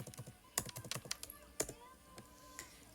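Numbers are typed on a computer keyboard in quick irregular bursts of crisp clicks. The clicks thin out toward the end, close and fairly quiet, with faint background noise.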